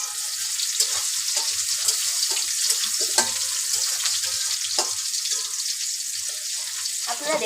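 Onions and two dried chillies sizzle and fry in a pan for masoor-style lentil dal, a steady high hiss with small crackles and occasional stirring scrapes, close and continuous with no talk.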